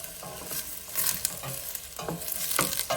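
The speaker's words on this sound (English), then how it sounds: "And these were some yellow potatoes I had. So into the pot they go." Yellow potatoes tumble into a pot of seafood chowder with shrimp, lobster, scallops and crab, giving a few soft clattering stirs and splashes over a low simmer, close and moderately loud.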